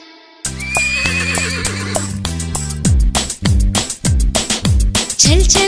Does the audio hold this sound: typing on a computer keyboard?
no